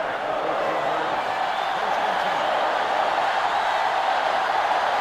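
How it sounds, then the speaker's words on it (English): A packed stadium crowd in the NCAA Football 2005 video game, Michigan vs Ohio State, roars in one broad, steady wash of noise that holds at a constant level throughout. "And this crowd is going absolutely crazy."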